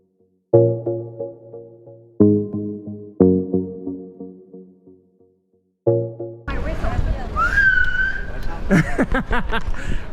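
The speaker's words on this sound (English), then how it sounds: "That's a sound of my whistle." Four repeated blasts of a soccer-mom style whistle blown by a cyclist riding downhill in Madrid, each a loud harmonic tone fading out, followed by louder street and traffic noise with a rising squeal.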